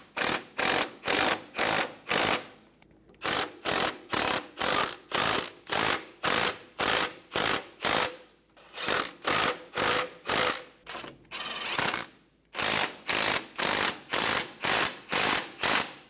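Rapid, loud clicking of a ratchet snugging down wheel hub bolts on a 2003-2007 Infiniti G35 front hub bearing, close up in repeated bursts of quick strokes separated by short pauses, with no talking.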